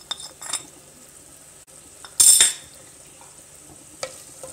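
Spices with salt, crushed chilli and turmeric are sautéed with softened tomatoes in a pan for chicken handi, giving a quiet sizzle broken by a few stirring scrapes and one brief louder burst of clinking.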